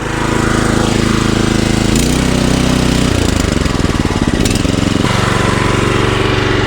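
A Harbor Freight 8HP engine on a towable backhoe, started for the very first time, runs steadily and loudly up close with a rough, chugging drone and no speech.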